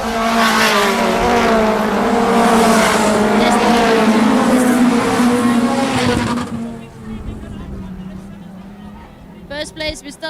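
Race cars roar loudly around an oval track with a steady engine drone under continuous commentary, then the noise drops away after about six seconds, leaving quieter background and a brief burst near the end.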